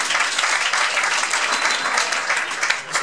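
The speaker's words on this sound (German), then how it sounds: "Das ist ein sehr studierter Applaus." Steady, dense clapping from a comedy club audience fills the whole stretch, loud and close, a continuous wash of many hands with no voices standing out.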